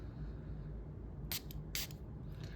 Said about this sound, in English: That's the kind of spray that I like, where it goes whoosh.